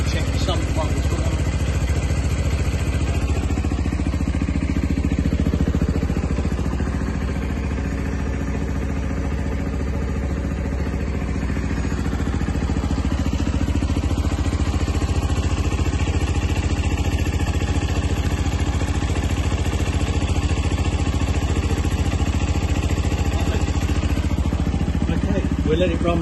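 A 2021 Sinnis Terrain 125cc liquid-cooled motorcycle engine idles steadily after its first service, a continuous low mechanical hum with light clatter running throughout, fairly close.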